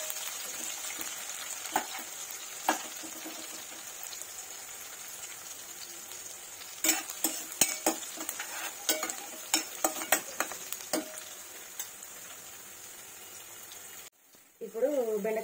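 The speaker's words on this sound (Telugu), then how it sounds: "ఇప్పుడు బెండకాయ ముక్కలు వేసుకున్నాం" Okra pieces frying in a pan are stirred with repeated scraping clicks over a soft, steady sizzle, the strokes coming in irregular bursts before a voice briefly speaks at the end.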